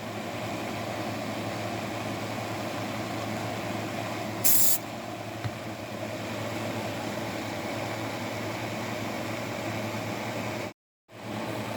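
Spray paint hisses onto the body of a 1963 Chevy Nova plastic model kit, a continuous, even close-up hiss that ends abruptly near the finish.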